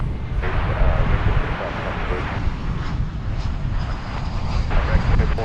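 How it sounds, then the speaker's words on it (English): American Airlines Airbus A321 airliner at Dallas Fort Worth Airport, a broad roaring engine rumble that rises and swells, loud and close, with a voice talking over it. "Next to arrive is American Flight 2769 from Seattle. It's an Airbus A321."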